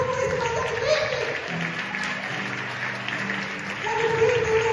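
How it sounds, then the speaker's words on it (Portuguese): A church congregation applauds Jesus during a sermon, steady clapping running throughout beneath sustained tones and voices, with music and talk mixed over the crowd noise. "Você pode aplaudir esse Jesus que passou tudo isso, mas ele vive."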